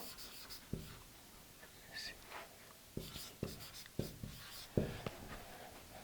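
Marker or chalk writing a number sequence on a board during a maths lesson: faint scratchy strokes and several soft taps in an irregular rhythm in a quiet room, with no clear speech.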